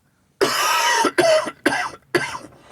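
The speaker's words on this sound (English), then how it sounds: "you're putting up with my coughing" Four harsh, loud coughs in quick succession, close by, each a rough burst with short gaps between.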